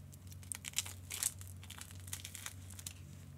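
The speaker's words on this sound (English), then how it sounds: "So let's unwrap this and see if it stacks up." Plastic or paper wrapping crinkled while a watch package is unwrapped, close and fairly quiet, with scattered crackles over a low steady hum.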